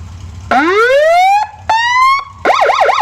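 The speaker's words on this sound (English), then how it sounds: "I'll go in there and I'll turn on some sirens." A 1969 GMC 9500 fire truck's loud electronic siren sweeps upward in long rising wails, cuts out briefly, rises again, then switches to a rapid warbling yelp.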